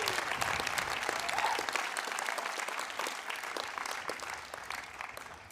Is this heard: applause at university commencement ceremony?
yes